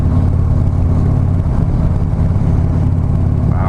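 A 2015 Harley-Davidson Street Glide Special engine runs just off idle, a loud, steady, smooth low rumble, close and continuous with no talking.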